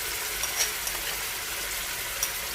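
Mutton karahi sizzles and fries steadily in a pan with ground tomato paste, a constant crackling hiss with a few soft pops, close and moderately loud, no talking.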